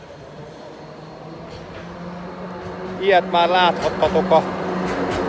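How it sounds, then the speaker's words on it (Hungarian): A number 2 tram approaches along a street in Timișoara, its low rolling rumble growing steadily while someone talks continuously over it. "Itt mögöttem jön a villamos."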